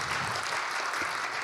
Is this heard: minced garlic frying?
no